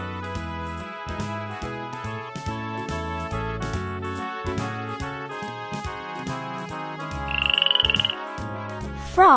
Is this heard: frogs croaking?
yes